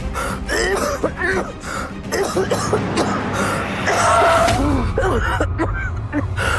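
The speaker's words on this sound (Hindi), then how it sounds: "आपको खांसी क्यों आ रही है?" Repeated coughing and throat clearing from a person in a Hindi television drama scene, several harsh bursts mixed with voices and a low vehicle-like rumble in the background.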